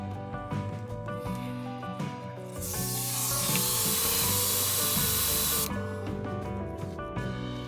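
An airbrush hisses steadily for about three seconds while spraying paint onto a jointed craw crankbait lure, the loud broadband spray starting abruptly and cutting off cleanly, with faint handling noises before and after.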